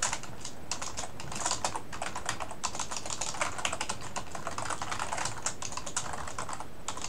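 Rapid, continuous typing on a computer keyboard, close and clear, with dense irregular key clicks that never pause, no talking.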